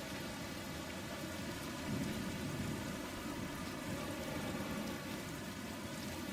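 Steady rainstorm on a planet in the video game Outer Wilds, a dense, even hiss of falling rain with a low rumble swelling briefly, continuous and fairly quiet with no voices.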